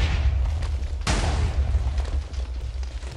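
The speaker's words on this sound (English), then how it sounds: "The explosions don't go very far through the obsidian." A loud, deep explosion in a Minecraft world with the Mystcraft mod, blasting into obsidian, with a sharp burst near the one-second mark followed by a sustained low rumble and crackle.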